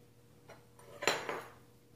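Peanut butter scraped out into a mixing bowl for cookie dough, heard as a few quiet utensil clinks and scrapes against the bowl, with one brief louder scrape near the middle.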